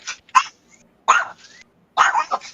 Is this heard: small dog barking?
yes